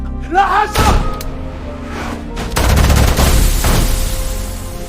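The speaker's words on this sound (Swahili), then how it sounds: "Risasi mbili za Tyson zilipishana na bega la Musa" Gunshot sound effects in a Swahili dramatized audio story about a shootout, with several sharp bangs and thuds over a dark, tonal backdrop that swells into a louder, busier burst of blasts midway.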